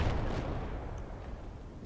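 A deep bomb explosion in the Project Reality video game destroys two enemy tanks, a heavy low boom that fades out over about two seconds.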